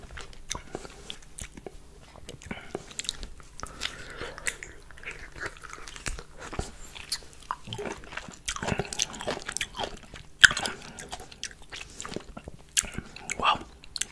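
A lemon bitten and chewed close to the mic, with wet crunches, juicy squelches and smacking in an irregular rhythm, soft breaths between bites in a quiet room.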